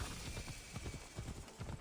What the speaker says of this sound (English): Where's my horse? There's my loyal steed.